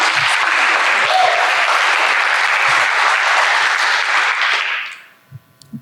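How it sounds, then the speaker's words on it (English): Loud, sustained audience applause fills a digital marketing conference hall for a VP of Strategy, dense clapping steady for about five seconds before fading out quickly, followed by a few faint stray noises. "let's give her a round of applause"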